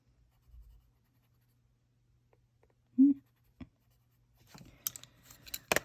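Colored pencil scratching across a Colormorphia coloring-book page, close and soft, with a couple of isolated taps midway and then a denser run of quick, rhythmic strokes near the end.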